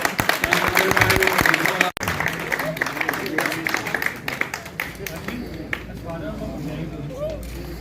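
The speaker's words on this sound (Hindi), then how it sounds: "भी तालियां बजाएं" Crowd clapping fills the first two seconds, then thins into scattered claps beneath a voice speaking over the room at a pigeon-flying tournament.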